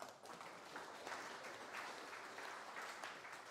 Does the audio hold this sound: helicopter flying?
no